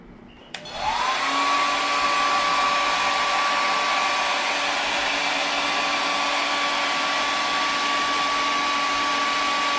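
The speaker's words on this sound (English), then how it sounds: "As I move this hairdryer away from that probe" A handheld hairdryer switches on after a brief click and runs steadily at full blast, a loud continuous whoosh with a constant high whine, close and unchanging to the end with no voices.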